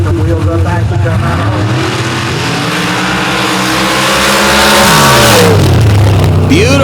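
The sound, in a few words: drag racing cars launching on dirt track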